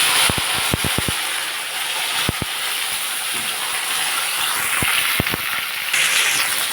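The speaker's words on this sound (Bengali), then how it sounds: "আমি এবার এর মধ্যে ঢ্যাঁড়সগুলো তুলে দেবো" Okra is tipped into hot mustard-style tempering oil with fried dried red chillies and nigella seeds, giving a loud, steady, close sizzling hiss dotted with sharp pops and clicks, with no speech.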